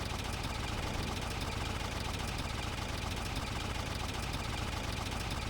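A vehicle engine drones steadily in the S.T.A.L.K.E.R. video game, a continuous low, rumbling hum with a faint knocking texture, loud and unbroken with no talk.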